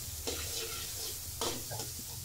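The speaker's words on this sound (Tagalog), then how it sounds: "Unahin natin gisahin ang sibuyas at ang bawang." Onion and garlic sauté in hot oil for a kikiam and fishball sauce, a continuous close hiss with a couple of louder bursts as the pan is stirred, and no one talks.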